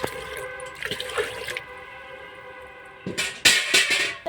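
Water runs and splashes into a cooking pot as it is filled for boiling rice in a home kitchen, the pour coming in uneven bursts, quieter mid-way then louder and fuller toward the end.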